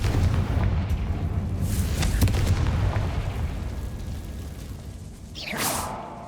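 Confringo blasting spell from Hogwarts Legacy: a booming blast with a whooshing burst, followed by lingering rumble and a second sharp swoosh near the end, loud and close with no talking.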